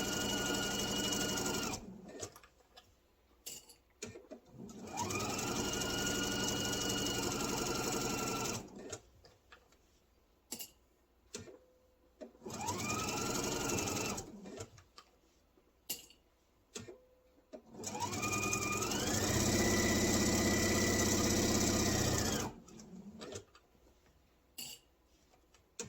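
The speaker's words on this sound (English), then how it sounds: "Now we'll sew down to the" A sewing machine stitches around the corners of a kitchen-print apron in several long whirring runs separated by pauses, with clicks and small ticks between bursts as the fabric is pivoted, close and steady, no voices.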